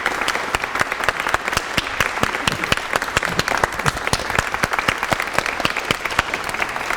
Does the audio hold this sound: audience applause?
yes